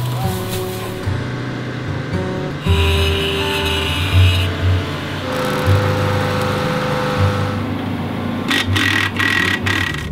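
Rally vehicle engines with straight pipes idling and revving at a rally bivouac, a loud steady drone with surging revs, plus background chatter and clanking.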